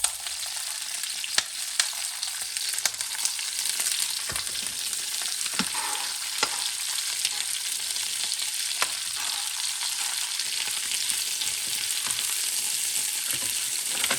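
Vegetables fry in a paella pan with a steady, close sizzling hiss broken by occasional stirring scrapes and small pops, with no talking.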